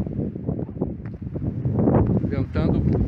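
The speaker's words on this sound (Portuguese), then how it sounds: "O vento aqui tá de arrancar o boné." Strong, cold wind buffets the microphone in rough, gusty rushes while someone talks through it on a mountain hiking trail.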